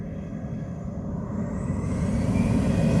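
A Frontier airliner takes off from runway 07 at Montego Bay, Jamaica. Its deep engine roar and low rumble swell steadily louder as it accelerates, heard from a distance with no voices.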